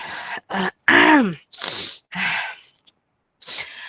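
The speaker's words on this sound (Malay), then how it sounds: "kejap nak bersin" A woman sneezes during a physics lecture on temperature and physical properties, a loud close burst followed by a few breathy sniffs and gasps with short pauses.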